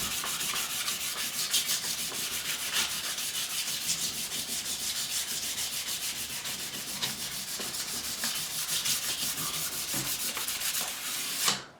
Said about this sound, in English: So I've got some 240 grit, and that's going really, really well.